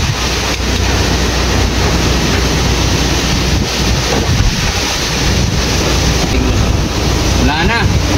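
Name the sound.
strong typhoon wind rattling a tied-down roof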